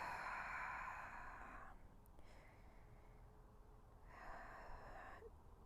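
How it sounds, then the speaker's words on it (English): Deep yogic breaths during a yoga practice, two long airy inhale-exhale passages near the mic, each lasting a couple of seconds and separated by a quieter pause, with no talking. "Breathing deep."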